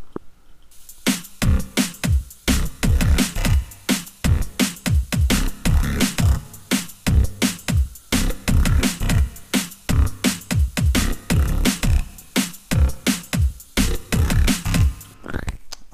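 Neuro bass synth stabs with a macro controller sweeping the filter open, firing rapid choppy hits in a dense rhythmic pattern, loud and dry for about sixteen seconds without any voice.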